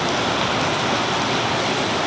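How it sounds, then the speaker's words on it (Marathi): Steady rain falls close by, a dense even hiss of drops with no pauses over two seconds. "पाऊस बघतोय आम्ही"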